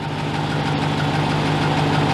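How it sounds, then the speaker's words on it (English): A 2021 Ram TRX truck idling, a steady low, even engine drone with a faint hum, close and constant throughout. "I'm gonna leave the truck running"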